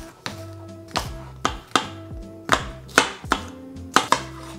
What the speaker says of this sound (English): it's not too bad other than the chopping of the cranberries.